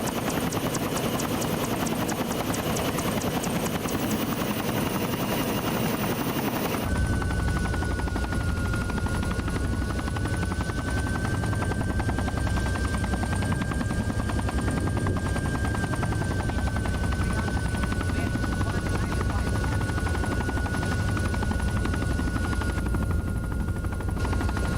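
Helicopter from the military game Arma 3 flying steadily for the whole stretch, a loud continuous rotor and turbine drone with a steady whine, shifting in tone after an abrupt change early on.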